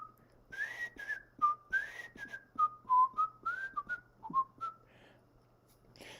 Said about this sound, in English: Celebrity Spotlight wants me to whistle a song.